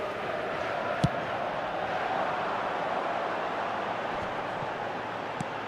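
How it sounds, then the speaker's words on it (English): Football match crowd applauding in a stadium, a broad steady wash of clapping and noise filling the whole stretch, with a couple of sharp isolated bangs standing out. "it's applause all round us here"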